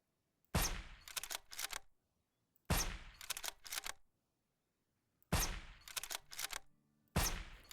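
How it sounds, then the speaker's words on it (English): Silenced hunting rifle shots in the survival game SurrounDead come in four sharp, close reports spaced a couple of seconds apart. Each is followed by a quick rattling of mechanical clicks, with silence in between. "This is insanely OP. This is a hunting rifle with a silencer on it."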